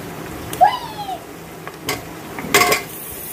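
Mutton trotters (paya) drop into a hot pan with garlic, ginger and chopped onion, setting off a sizzle with a few metallic clinks and stirring scrapes, short and close.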